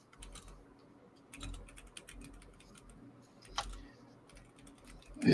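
Quiet typing on a computer keyboard, irregular bursts of soft key clicks with short pauses between them, close by and alone.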